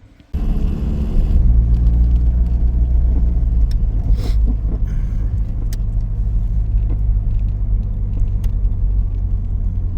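A Dodge Daytona Shelby Z starts up and holds a steady, loud low engine rumble heard from inside the car while driving, with a few faint clicks and knocks over it.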